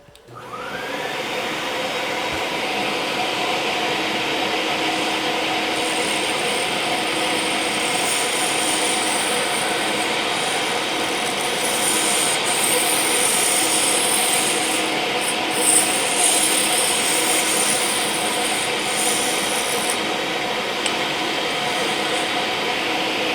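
A woodturning tool cuts a resin or acrylic blank spinning on a lathe. It makes a loud, continuous, hissing scrape that holds steady for over twenty seconds with no speech.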